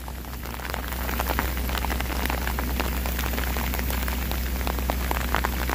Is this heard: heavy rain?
yes